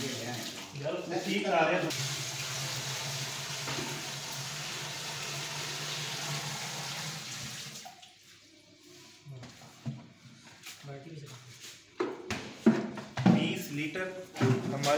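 About 20 litres of water run into a large container as the base for homemade shampoo, a steady rushing fill that stops partway through, followed by handling noises and people talking.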